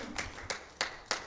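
Church congregation clapping in rhythm, four evenly spaced claps about a third of a second apart over a faint background, fairly quiet.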